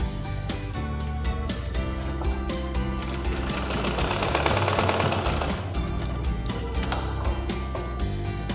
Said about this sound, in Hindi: यहाँ से हमें सिलाई करते यहाँ तक ले आनी है